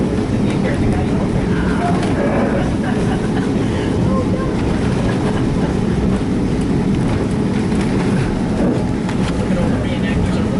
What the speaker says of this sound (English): look at all the reenactors are looking at the train going by.